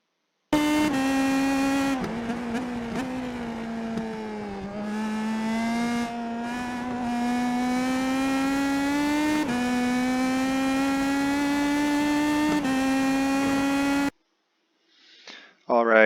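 An IndyPro2000 open-wheel race car in the iRacing game laps Legacy Silverstone with a loud, steady engine whine that rises through the gears, with brief dips at shifts and under braking, then drops out abruptly near the end.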